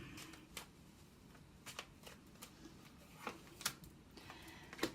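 Tarot cards being shuffled and handled during a Scorpio reading, quiet papery flicks and soft taps scattered irregularly across a low room hiss, with no talking.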